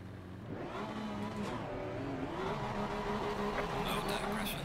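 Porsche Cup race car engine in a racing video game at wet Oulton Park, droning steadily with rising and falling revs through gear changes, moderately loud and continuous, with faint talk over it.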